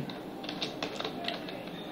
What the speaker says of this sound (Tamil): அது நான் டைப் பண்ணுறேன் இந்த வாட்டி